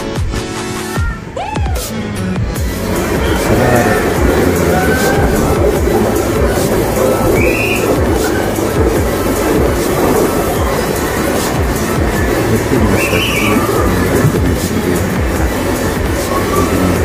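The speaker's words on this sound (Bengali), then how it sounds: "আর ট্রেন যেন বেঁকে চলেছে" A train on the Tata to Araku line runs through hilly country on a curving track, with a loud, continuous rumble and rhythmic wheel clatter close by. Squeals rise and fall over the steady roar.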